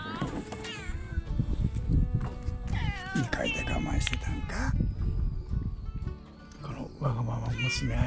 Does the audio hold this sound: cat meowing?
yes